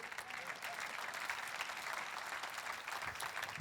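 A church congregation applauds during a sermon with a steady, fairly faint wash of clapping lasting a few seconds, with no distinct voices on top.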